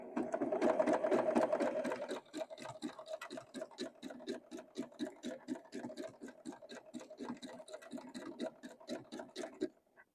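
A sewing machine stitches a yarn lollipop ornament in a fast, even run of mechanical pulses, starting with a denser burst and then settling into a steady rhythm before stopping; no one speaks.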